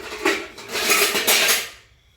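A metal cooking pot clanks and scrapes as it is handled, a short burst of bright, close metallic rattles that fades out after about two seconds.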